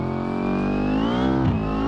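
A car engine in the driving game BeamNG revs hard under full throttle, a loud, rising harmonic whine climbing in pitch, then briefly dipping around a gear change before pulling on steadily.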